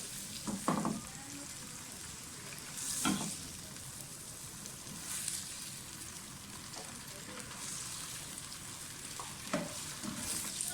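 Mixed vegetables fry in a pan dhaba style with a steady close sizzle, interrupted now and then by the scrape and clatter of stirring.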